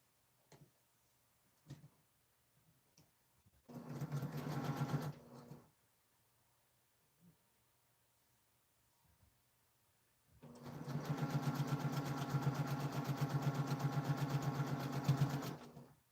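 Sewing machine stitching jelly roll quilt pieces, running in two bursts: a short one of about a second and a half, then a longer steady whirring run of about five seconds, with quiet pauses and small clicks between.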